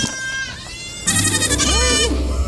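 Nigerian Dwarf goats bleat loudly and close by, one shorter call followed by a longer, wavering cry from another goat, during milking time on a small farm.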